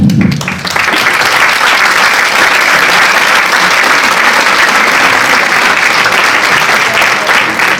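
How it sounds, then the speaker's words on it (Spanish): A full hall claps loudly at a 45th-anniversary Constitution ceremony in Leganés, with thick, continuous applause rising within the first second and staying strong and even to the end. "Un fuerte aplauso para ella."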